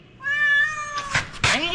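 A cat inside a shop lets out a long drawn meow that swells into two sharp howling cries, close and loud, with some workshop background.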